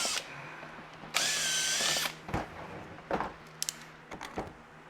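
A power drill whines in a short burst as it drills out a dimple in a Jeep tailgate, followed by scattered clicks and knocks of handling. Close and fairly quiet otherwise.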